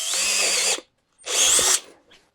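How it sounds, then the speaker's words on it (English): A power drill whirs at high speed in two bursts, each under a second, drilling a 16mm hole during a Land Rover LR4 snorkel installation, with a short silent gap between them and a faint tail at the end. "I will drill a 16mm hole in here"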